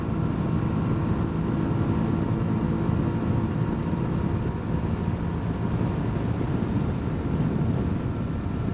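A Hyosung GD250R, a 250cc single-cylinder motorcycle with its exhaust tucked up under the body, gives a steady, even engine drone with a low throbbing rumble that holds at a constant level throughout, with no voices.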